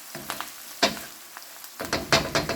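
Salmon frying in a pan of oil with garlic, butter and lemon sizzles and crackles close up, with short popping bursts and a steady hiss.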